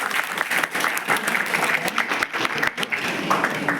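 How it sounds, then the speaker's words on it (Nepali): Audience applause at a Nepali school programme, loud and close with a dense, energetic crackle of many hands, a few individual claps standing out, sustained throughout. "ज्यूलाई पनि ताली बजाइदिनु होला।"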